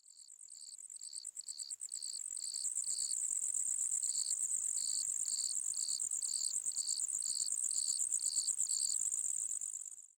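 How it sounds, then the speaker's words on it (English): Cricket chirps from the sunset ambience of the video game Cube World, a steady rhythmic trill of pulsed insect calls running continuously and evenly throughout, alone with no talk. "as the sun's getting lower, those change into bug sounds of like crickets and stuff"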